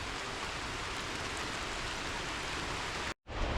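Steady rain falls on a stormy coast, a dense, even hiss of drops close by that cuts out abruptly for a split second near the end before resuming.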